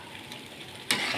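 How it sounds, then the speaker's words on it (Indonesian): A spice paste with bay leaves sautés in a pan for duck pedesan, a soft steady sizzle that jumps to a louder, brighter hiss near the end, close by with no talk. "Ini terus kita tumis sampai setengah matang ya, sampai aromanya wangi"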